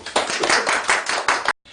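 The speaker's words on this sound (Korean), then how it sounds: "박수 한번 쳐주십시오." Applause from a seminar audience of small-business owners at a Korean lecture hall, a dense burst of many hands clapping for about a second and a half before cutting off abruptly.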